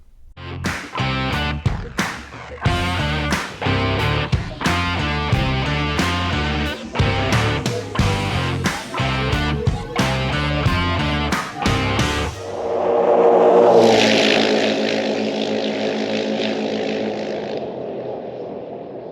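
A 2003 Polaris Sportsman 700 project quad on its first ride in Lucerne Valley, its engine revving in repeated loud, rhythmic bursts before settling into a steady, close roar.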